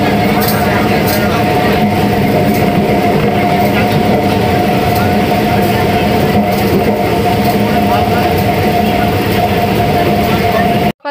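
A train runs along the rails, a loud, steady rumble from close by that continues unbroken throughout, with faint voices mixed into the noise.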